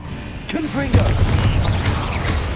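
The Confringo blasting curse goes off in Hogwarts Legacy on hard mode, a deep booming burst with crackling debris, closely overlapped by a player's voice.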